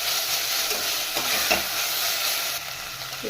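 Chopped large tomato sizzles and fries in a pan for a Bangalore-style mutton donne biryani, with steady close crackling and occasional scraping stirs throughout, no voices.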